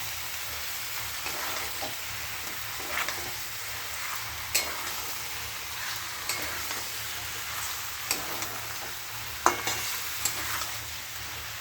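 Boiled potatoes sautéing in a pan for a curry, a continuous steady sizzle with occasional soft spatula clicks and scrapes as they are stirred, no talking.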